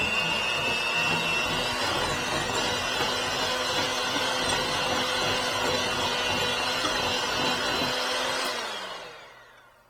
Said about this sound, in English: I'm going to take my hand mixer and mix this until it's light and fluffy